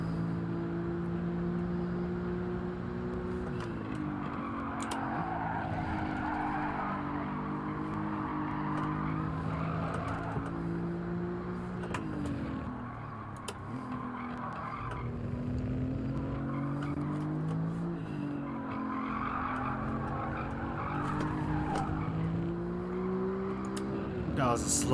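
A race car in Gran Turismo 7 corners during a time trial, its engine droning steadily with pitch dips and rises through the turn while a voice talks over it.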